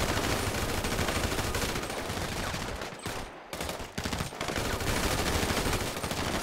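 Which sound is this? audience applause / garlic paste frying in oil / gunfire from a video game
gunfire from a video game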